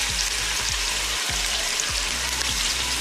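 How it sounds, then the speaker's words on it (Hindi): Red chili, whole cumin and salt frying in hot oil with cooked onions for chicken karahi, a steady dense sizzle and crackle filling the whole clip, with faint stirring knocks at a regular pace. "थोड़ा सा हम इसे भून लेंगे ताकि मिर्चों का जो कच्चापन है वो दूर हो जाए।"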